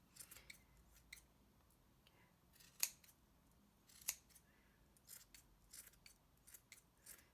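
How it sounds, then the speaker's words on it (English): Scissors trim a yarn pom pom shaped like a cat, a series of quiet, sharp snips spaced irregularly, with two louder cuts standing out against a hushed room. "I'm going to take my scissors and chop that down right there."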